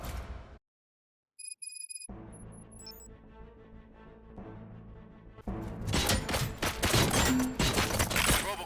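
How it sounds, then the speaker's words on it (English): After a few electronic tones and a quiet stretch, loud rapid gunfire erupts in the video game RoboCop: Rogue City, with crashing, shattering bursts filling the last few seconds. "Gunshots? What's going on?"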